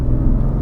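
BMW F80 M3 engine pulling hard under acceleration, a dense low rumble that stays steady and loud through a very short burst, with no talk over it.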